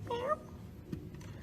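A person mimics a cat's meow with a short, rising, nasal vocal cry, close and clear, followed by quieter faint sounds.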